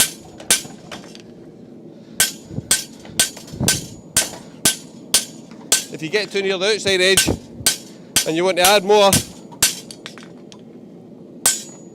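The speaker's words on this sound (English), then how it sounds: "with beveling off with your hammer," Sharp, ringing hammer blows beveling the web of a horseshoe, struck one at a time in an uneven rhythm, loud and close, with someone talking between the strikes.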